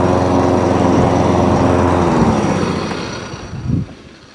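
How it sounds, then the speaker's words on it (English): A FEIDER TR5220 lawn mower engine runs loudly with a steady rumbling drone after a roller replacement, then winds down and fades, with a brief louder sputter near the end. "one FEIDER lawnmower now all up, running, driving"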